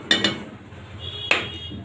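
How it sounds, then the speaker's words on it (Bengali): Metal cake mould set down into a pre-heated cooking pot on a stove, giving two quick clinks followed by a single louder metallic clank, close up and with no talk. "কেকের মলটা বসাই দিব।"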